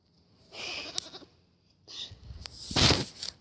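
A young goat, only a few months old, bleats in short nasal calls with quiet gaps between them, close to the microphone.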